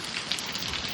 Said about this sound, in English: So right now I'm looking at a mixture of heavy rain and drizzle.